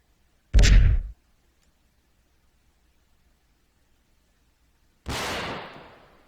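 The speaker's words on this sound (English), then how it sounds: "it does take a while for the grenade to actually reach its target" A grenade launcher fires in a shooter video game: a sharp close thump, then several seconds of silence before the grenade's distant blast lands as a broad, noisy boom that slowly decays.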